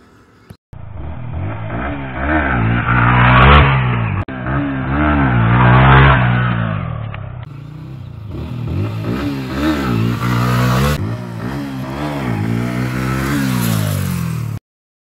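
A sport motorcycle engine revs hard in rising, whining bursts, climbing and dropping repeatedly, loud and close with no talking.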